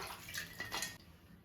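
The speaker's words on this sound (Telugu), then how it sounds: "సాల్ట్ వాటర్లో శుభ్రంగా చిక్కుడుకాయల్ని నీళ్లు మార్చి కడిగేస్తున్నాను" Broad beans being washed in salt water in a basin, with the water sloshing and splashing in a couple of short bursts over a running-water wash, no voices.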